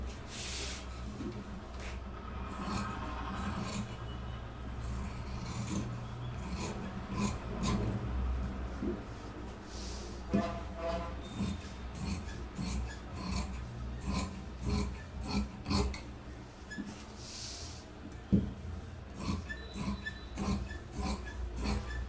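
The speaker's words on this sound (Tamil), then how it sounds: "இப்போ நம்ம ஷோல்டர்ல இருந்து கட் பண்ணிக்கலாம்." Scissors cut through fabric starting from the shoulder of a marked garment piece, giving soft repeated rasping snips and rubbing of cloth, close and fairly steady for the whole stretch with no talk.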